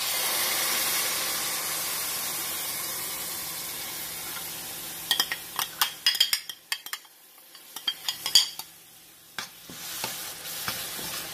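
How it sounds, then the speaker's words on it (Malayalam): Ground tomato paste goes into spices fried with turmeric in a pan for palak paneer, so a steady sizzle gives way to a run of spoon clatters and stirring scrapes, close and clear, with no talk. "ഇതിലേക്ക് അരച്ചു വെച്ച ടൊമാറ്റോയുടെ അരപ്പ് ചേർത്ത് കൊടുക്കാം"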